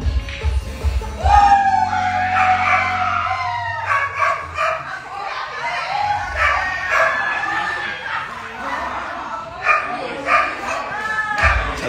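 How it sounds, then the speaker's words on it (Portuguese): A dog barks and yips repeatedly at close range, sharp and uneven, while people talk over it and a siren-like wail sounds in the background. "que cachorro é chato, velho"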